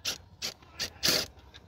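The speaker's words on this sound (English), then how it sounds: "now I'm going to proceed to remove the screw as well" A T20 Torx screw being backed out of BMW G26 Gran Coupe trunk trim gives off four short ratcheting bursts of a driver, the last one longer, close and clear with no talking.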